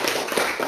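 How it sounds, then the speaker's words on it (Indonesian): Children in a classroom clap their hands in a dense, steady patter of overlapping claps, close and fairly loud. "Tepuk tangan hari ini anak-anak ibu"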